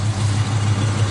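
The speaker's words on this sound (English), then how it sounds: "If the engine seems a little loud, it's because it does have a fuel pump mounted right here in the engine compartment." A 1968 Pontiac GTO, numbers matching, idles with the hood open and a fuel pump mounted in the engine compartment, giving a close, steady low rumble alone for a brief moment.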